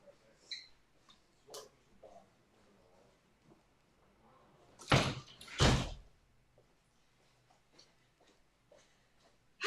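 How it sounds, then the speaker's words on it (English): A door is closed in a room during a stamping craft session, two loud thuds close together in the middle, with faint clicks and small knocks scattered around them. "Let me just go and close the door so that you can't hear."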